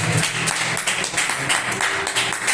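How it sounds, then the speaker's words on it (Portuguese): A church congregation claps to welcome the preacher at a Brazilian teaching service, a dense, steady wash of many hands filling the room without pause, with a low hum of voices and music underneath. "Vamos receber o homem de Deus com as palmas bem alegres para o Senhor."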